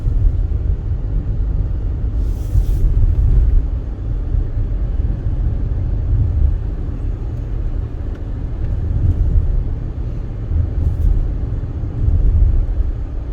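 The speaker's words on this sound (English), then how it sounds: "So I had to give it a little gas, so it went up the hill." A 2023 Toyota Highlander Turbo with an 8-speed transmission climbs a small hill, its engine and road noise forming a loud, steady low rumble heard from inside the cabin that swells slightly at a few points, with no one talking.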